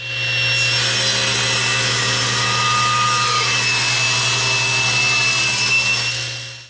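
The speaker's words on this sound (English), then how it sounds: "we're going to cut some 1/4 inch thick strips off of this block" A power saw rips 1/4 inch thick strips from a wood block for a travel tic tac toe board, a loud continuous whine with a steady motor hum that holds for several seconds and then cuts off.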